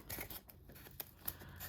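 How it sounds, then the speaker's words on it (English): Scissors snip at the beard of a handmade craft gnome, with a few crisp close cuts spaced across a quiet moment and no talk. "you can trim whatever you need. That's why you've got them scissors."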